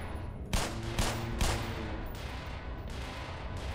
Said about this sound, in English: let's see if I shoot down there